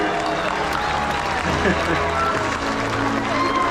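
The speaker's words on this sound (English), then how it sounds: "everybody give them a big round of applause here" Audience applause and cheering in the stands of a SeaWorld San Diego orca show, a dense steady wash of clapping mixed with crowd noise and voices, with a brief rising shout in the middle.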